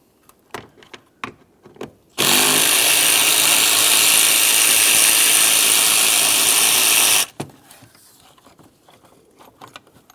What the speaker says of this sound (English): Remove that 8mm headed bolt.